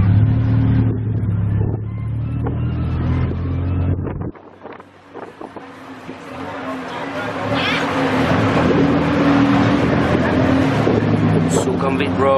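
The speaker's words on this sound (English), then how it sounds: "We're riding a tuk-tuk." A tuk-tuk rides through Bangkok traffic, its engine droning and puttering with heavy wind buffeting the microphone, dipping briefly before surging back, with passengers talking over the motor.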